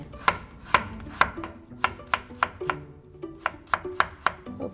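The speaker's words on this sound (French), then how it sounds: "Je commence le coupé de radis" A knife chops radish into thin slices on a cutting board, giving about a dozen sharp, close, evenly spaced chops with no talking.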